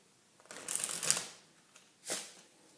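A Bicycle Ghost deck of playing cards being shuffled in two quick papery riffle bursts, a longer one first and a shorter one after a pause, close and clear with no talking.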